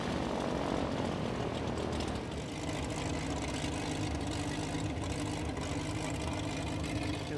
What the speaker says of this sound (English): It's a Lycoming motor.